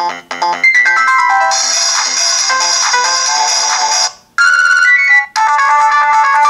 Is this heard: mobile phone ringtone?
yes